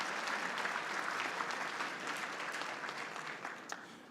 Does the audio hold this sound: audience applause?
yes